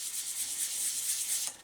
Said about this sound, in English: So let's start with good old sandpaper.